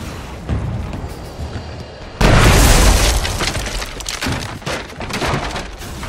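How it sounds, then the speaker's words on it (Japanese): A cannon fires and its shell explodes in the stealth game Shadow Tactics: Blades of the Shogun, one loud close boom erupting after a stretch of quieter ambience, followed by a long crackling, splintering rumble as debris settles. "この大砲使えるかもしれぬ。"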